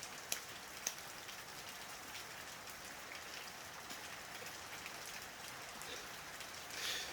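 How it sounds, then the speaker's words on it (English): Rain patters steadily and softly on surfaces outdoors beside a grassy yard, with a few sharper drops tapping near the start and a slight swell at the end; no one speaks. "rain is so good for us right now"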